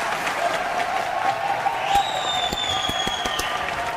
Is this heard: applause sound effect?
yes